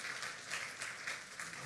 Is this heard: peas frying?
no